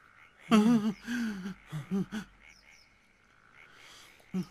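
Frogs croak in a run of loud, throaty calls with short gaps, then fall mostly quiet before one last brief croak.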